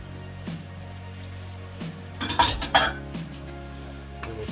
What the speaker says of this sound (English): And we stir everything together